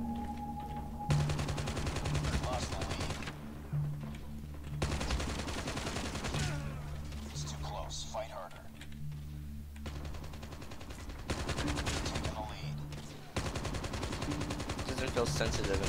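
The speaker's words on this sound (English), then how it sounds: "Oh, am I shooting? What? I'm trying to shoot." Gunfire in the video game Call of Duty, with dense, sustained bursts of automatic shots that pause briefly and then resume, loud and close, across the whole stretch with a low game soundscape underneath.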